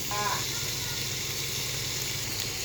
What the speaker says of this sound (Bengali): এবার আমি মশলাটাকে একটু কষিয়ে নিচ্ছি